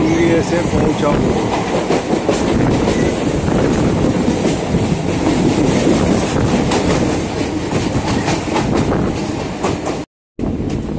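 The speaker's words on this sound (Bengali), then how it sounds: "স্টেশনের দিকে রওনা দিচ্ছে ট্রেন।" A Budge Budge local train runs on the rail line near Kolkata, a loud continuous rumble with clickety-clack of the wheels and carriage rattle throughout, with a brief cut near the end.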